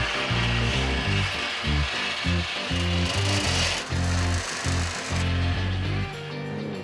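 A tool cuts through an 18 gauge cold rolled steel body panel during a 1969 Mustang Mach 1 restoration, making a loud, rapid, rhythmic chattering that runs steadily before easing off at the end.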